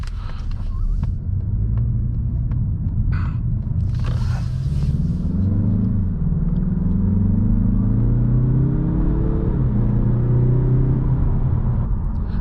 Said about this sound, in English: Take a quick U-turn for you guys here.